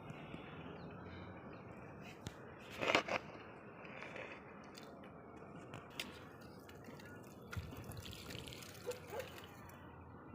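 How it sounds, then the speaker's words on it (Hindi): Water poured onto a potted plant cutting in a home garden: quiet trickling and dripping with a few louder splashes as it soaks into the soil. "अब इस पॉट को हमने पानी भी दे दिया।"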